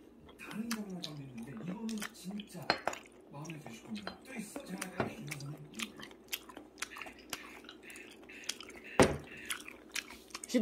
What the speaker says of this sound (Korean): 씹는 소리.